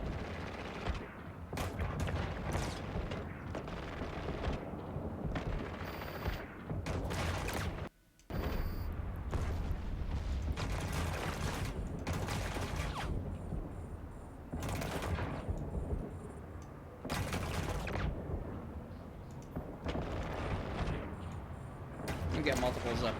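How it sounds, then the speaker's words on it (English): Spaceship turrets fire repeatedly in the EVE Online video game, loud bursts of gunfire and heavy booms in rapid irregular volleys, with a voice talking over the battle. "Look at those guns. They track and they fire."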